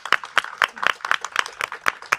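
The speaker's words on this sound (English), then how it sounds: "It deserves a clap." Scattered, fairly sparse hand claps from a small audience at a British Columbia child care announcement, sharp and evenly spaced, heard on their own without talk.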